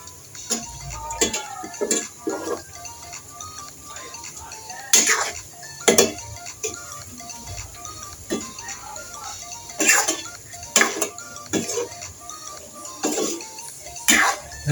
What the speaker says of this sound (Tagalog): Haluin po natin.